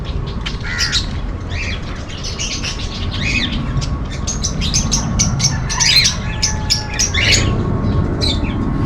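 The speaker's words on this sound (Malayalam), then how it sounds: "പക്ഷികളുണ്ട്." Birds squawk and chirp at Wadi Al Amardi farm, a busy overlapping stream of harsh calls and brighter tweets over a steady low background hum, fairly close and continuous throughout.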